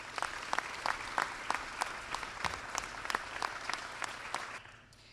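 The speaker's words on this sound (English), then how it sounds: "Can we please just give them a round of applause?" An outdoor crowd at a construction beam signing ceremony gives a short round of applause, moderately distant clapping with a few louder claps standing out, fading at the end.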